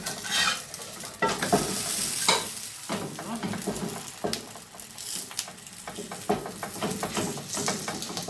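Homemade msemen flatbread fries and sizzles steadily in an oiled pan while being flipped, with scraping and utensil clatter against the pan riding over the continuous crackle.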